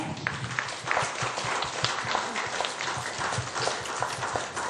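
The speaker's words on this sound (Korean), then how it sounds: "큰 박수 부탁드릴게요." An audience at a book talk event applauds to welcome a guest onto the stage, a lively sustained clapping with scattered sharper claps, moderately loud and steady.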